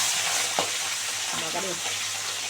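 Tangra fish frying in hot oil give a soft, steady sizzle with one sharp crackling pop near the start, heard close and fairly quiet with no talk.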